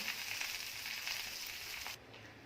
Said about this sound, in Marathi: ही मच्छी आहे ती सुद्धा मी फ्राय करून घेते